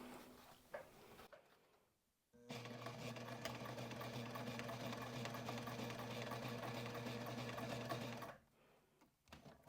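Sewing machine stitching along a marked line on a sling bag, running in one steady close whir of about six seconds, with faint handling clicks before and after and no talking.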